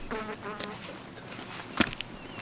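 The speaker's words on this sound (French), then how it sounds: "On a été envahis de mouches" Steady buzzing of flies hums throughout with a few sharper clicks and taps over it, outdoors in Corsica.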